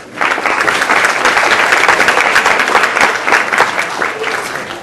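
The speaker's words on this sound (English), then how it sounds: "Round of applause for her." Loud, dense audience applause in a hall during a live stage show, many hands clapping continuously for nearly five seconds before easing off slightly at the end.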